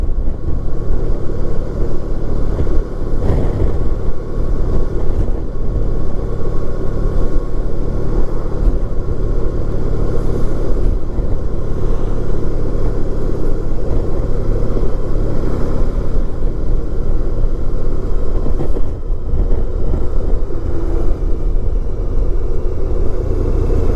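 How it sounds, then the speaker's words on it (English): Steady heavy wind buffeting and low rumble from riding a 1994 Honda ST1100 Pan European motorcycle, loud and continuous throughout with engine drone underneath and no talking. "it's more windy over here than Hampton Bays"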